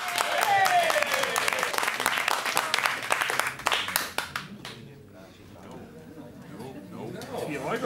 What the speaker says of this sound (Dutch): Applaus voor meer!